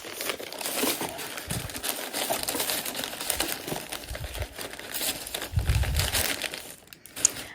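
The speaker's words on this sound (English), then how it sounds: "I always get irritated with a tissue paper" Tissue paper crinkling and rustling while beadable pens are packed for an order, a close, steady crackly crumpling with brief pauses and a few sharper crinkles near the end, no voices.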